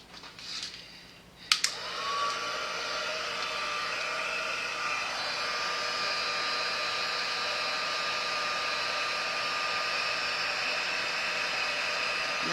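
Heat tool switched on for card making after a click, then a steady whooshing blower hum with a faint whine that runs continuously and evenly, close and moderately loud.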